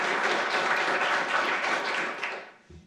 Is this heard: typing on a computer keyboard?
no